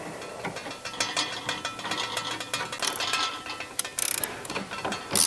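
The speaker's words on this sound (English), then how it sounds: "My lock nut started on the bottom, and then I'll go ahead and tighten it." Ratchet tightening the lock nut on a Porsche Boxster suspension strut during spring work: a run of quick, close mechanical clicks in short uneven bursts with brief pauses, fairly quiet and alone.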